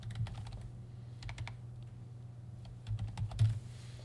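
Rapid typing on a computer keyboard while programming a VEX Cortex robot, a steady run of close, crisp key clicks with brief pauses and small bursts of faster taps, heard alone over a low hum.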